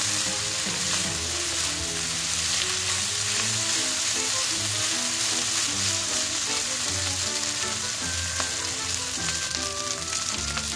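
Pork with broccoli and bell pepper stir-frying in a hot pan, a loud, steady sizzle with crackling spatters running throughout, no voices.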